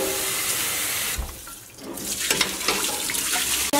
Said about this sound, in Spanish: voy a enjuagar otra vez la carne para quitarle lo más grasa posible